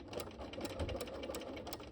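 A sewing machine stitching invisible machine appliqué runs in a steady, close mechanical whir with rapid needle ticks, continuous and alone.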